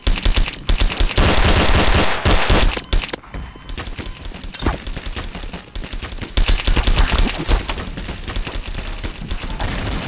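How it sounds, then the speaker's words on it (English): Rapid automatic gunfire from Garry's Mod DarkRP, loud and close, with dense bursts of shots rattling almost continuously and brief gaps between volleys. "Someone's shooting me from there."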